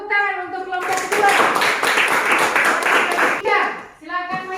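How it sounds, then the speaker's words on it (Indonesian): A classroom of students claps for a presenting group, a loud burst of many hands lasting about three seconds, with voices talking before and after. "Tepuk tangan untuk kelompok 2."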